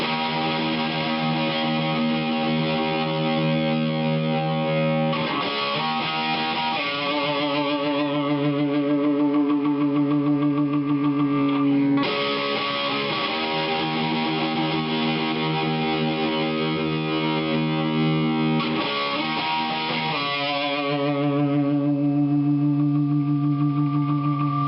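Distorted electric guitar through an amp with gain boost on and a BBE 462 Sonic Maximizer switched off, playing sustained chords and riffs in several phrases separated by short strums and pauses, loud and a little muddy.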